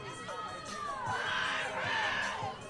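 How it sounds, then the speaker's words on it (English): Crowd cheering and shouting at a Little League all-star baseball game, a distant mix of voices and children's yells swelling and fading, with commentary talk over it. "Crowd is fired up."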